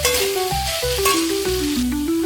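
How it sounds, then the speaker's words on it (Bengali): Potatoes fry in a pan over a raised gas flame, giving a loud, steady close sizzle with a continuous hiss, while a melodic tone changes pitch underneath throughout. "বাড়িয়ে দিয়ে এগুলো একটু লাল করে ভেজে নেব"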